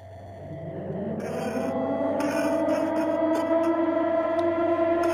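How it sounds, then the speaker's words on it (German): A Silent Hill style air-raid siren from the horror video game Anthology of Fear wails in a slow, loud rising tone with layered harmonics, growing stronger and holding steady over a low drone. "Silent Hill Sirene, wirklich?"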